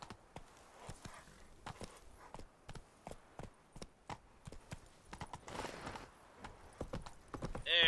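Roach, the horse in The Witcher 3, trotting with steady clip-clopping hooves, close and distinct, the regular beats briefly picking up pace near the end.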